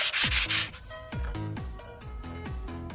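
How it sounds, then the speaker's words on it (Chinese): A car brake pad is rubbed back and forth on sandpaper to remove hard spots causing brake noise, making close, rhythmic rasping strokes repeated several times. "接下来我们把另一片刹车片也给它打磨一下"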